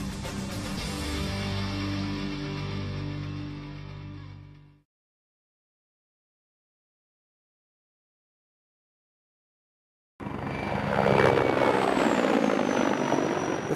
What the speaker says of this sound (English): MI-35 type helicopters and their modifications possess a high performance and serve as effective and reliable means of fighting in present-day conditions.